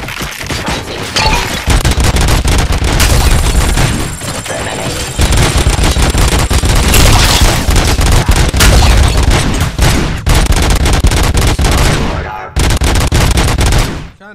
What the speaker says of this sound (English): a ricochet bullet